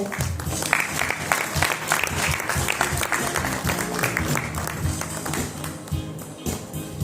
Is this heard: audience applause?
yes